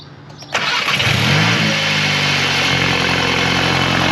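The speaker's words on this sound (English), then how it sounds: "That's its secondary air pump making the noise." A 2022 Volkswagen GTI Mk8 engine turns over and catches, then settles into a steady idle with a loud, constant whirring drone from its secondary air pump over it.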